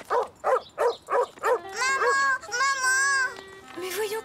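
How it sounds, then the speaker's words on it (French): A cartoon dog barks angrily in five quick, evenly spaced barks, then lets out longer whining, howling yelps, loud and close, with no speech over it. "Le chien avait l'air d'être en colère."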